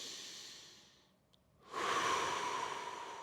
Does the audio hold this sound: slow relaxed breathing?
yes